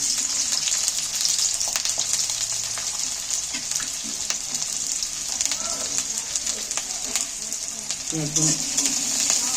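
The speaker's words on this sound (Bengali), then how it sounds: "এখানে আমি একটু বড় বড় করে কেটে রাখা পেঁয়াজগুলো তেলের মধ্যে তুলে দিচ্ছি" Large-cut sliced onions frying in a little oil in a wok, a steady loud sizzle running throughout with occasional stirring scrapes and faint background sounds.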